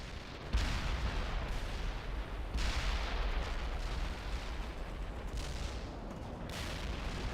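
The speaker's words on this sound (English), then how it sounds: "They're firing at us!" Heavy enemy gunfire and artillery pound continuously in the World in Conflict war game, with dense rumbling blasts and loud surges around one, three and six seconds.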